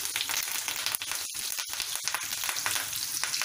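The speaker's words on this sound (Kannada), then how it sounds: "ಈರುಳ್ಳಿ ಹಾಕೋತಾ ಇದ್ದೀನಿ. ಇದ್ರ ಜೊತೆಗೆ ಸ್ವಲ್ಪ ಕರಿಬೇವಿನ ಎಲೆ" Chopped onion and curry leaves fry in hot oil for tomato chitranna, giving a steady, close crackling sizzle with small irregular pops and a few brief dips.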